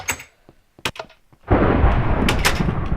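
Thunder in a Minecraft storm: a few quiet clicks and taps, then a sudden loud crack that rolls into a sustained, rumbling boom filling the rest.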